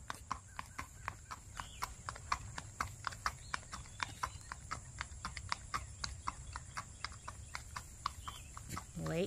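Buckskin racking gaited horse moving on a farm, a fast, even clip-clop of hoofbeats across the whole stretch, moderately near, with a faint voice in the background.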